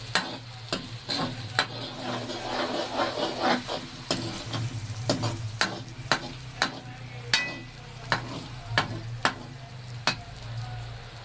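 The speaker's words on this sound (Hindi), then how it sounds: "प्याज हल्का सा फ्राई हो चुका है। यहाँ डालेंगे लहसुन अदरक का पेस्ट," Sliced onion with garlic-ginger paste sizzles steadily in a pan, with a spoon stirring and tapping against the pan in a regular rhythm, close and without talk.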